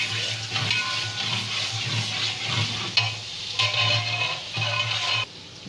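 Chopped onion sizzles in hot oil inside a large cooking pot, a steady loud frying hiss with occasional stirring scrapes and brief pauses, close up and without talk.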